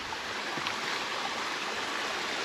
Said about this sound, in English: there's the river right in front of us